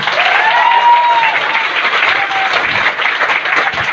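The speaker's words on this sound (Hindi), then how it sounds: "तो दोस्तों एक बार तालियों का महत्व दीजिएगा, अपने एक्साइटमेंट दिखाइएगा" A large audience at a motivational talk breaks into loud, sustained applause, a dense continuous wash of clapping with a few faint cheers mixed in.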